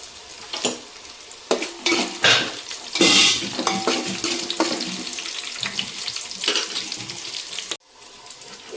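Mustard seeds, cumin and curry leaves tempering in hot oil in a pan, with crackling bursts, spoon scrapes and clinks of utensils, fairly close and loud, no talk.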